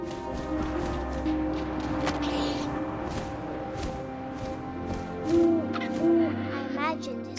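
An owl hoots in the video game What Remains of Edith Finch, a few low, rounded calls rising above a soft wind-like ambience, with a voice speaking faintly in the background.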